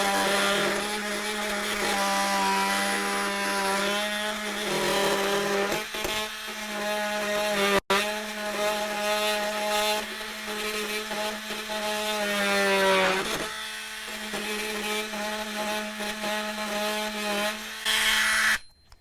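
A Bosch GOP12V-28N oscillating multi-tool saws steadily into wood with a loud, high buzzing whine. The pitch shifts briefly as the blade bites, with short pauses around the middle and a cut-off at the end.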